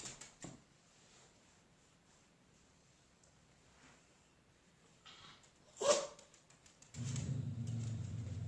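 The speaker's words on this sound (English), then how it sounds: "our dogs are getting upset. Somebody's outside walking by." Dogs indoors barking at someone walking by outside: a couple of faint early yips, then a sharper bark near the middle, followed by a louder burst of barking and agitated noise at the end.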